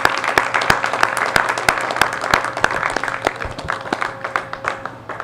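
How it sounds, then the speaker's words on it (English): An audience at a Prime Minister's visit to a St. Kitts and Nevis manufacturing site breaks into applause, a dense run of sharp hand claps that stays loud and gradually thins toward the end. "You deserve an applause."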